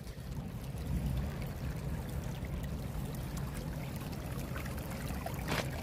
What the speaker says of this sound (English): That water's flowing right through the stone, right into the French drain.